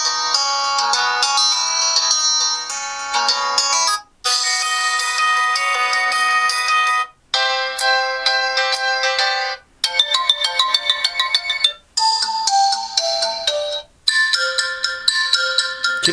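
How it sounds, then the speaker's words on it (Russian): Several different built-in ringtone melodies from an Infinix Hot 10 Lite smartphone play one after another, each a bright electronic tune separated by short silences. "Давайте послушаем встроенные мелодии, какие они по громкости."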